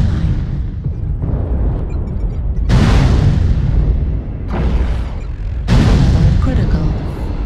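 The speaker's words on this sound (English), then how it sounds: "New target acquired. Artillery strike online." Heavy artillery strike explosions from a video game boom in repeated waves, three or four big blasts with rolling low rumble and crackling debris between them, loud and close, with a synthetic voice speaking briefly.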